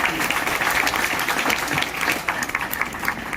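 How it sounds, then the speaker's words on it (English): A county commissioners' board meeting audience applauds in a dense, fairly loud burst of clapping, with some voices mixed in beneath it. "So let's give them a round of applause."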